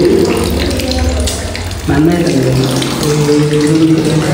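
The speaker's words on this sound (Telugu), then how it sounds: "ఇలా ఉంది ట్యాప్ వాటర్, అసలు వేస్ట్ అయిపోతుంది వాటర్ అనేది" Water gushes steadily from a tap at a temple, a loud continuous splashing stream that shifts in tone partway through, with faint background sounds and no clear talking.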